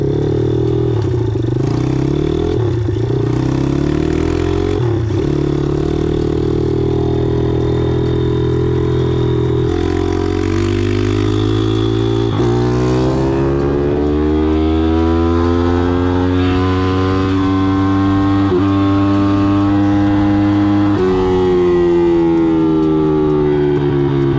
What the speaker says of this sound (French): Ça, c'est un moteur qui va tourner en championnat